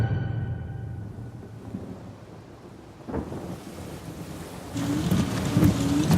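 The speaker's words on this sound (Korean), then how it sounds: "번개 친다." Thunder rumbles during a storm in the video game Uncharted 4: A Thief's End, a deep rolling boom with a sharp crack midway, over steady rain and wind noise.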